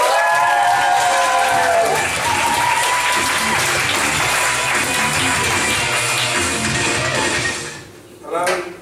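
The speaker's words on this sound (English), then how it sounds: "Please give us a big round of applause" Loud, sustained comedy club audience applause with cheering voices, continuing steadily before fading out near the end.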